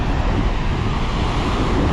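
Strong coastal wind roars steadily across the microphone during a bike ride between Sosúa and Cabarete in the Dominican Republic, a loud, constant rush with no break.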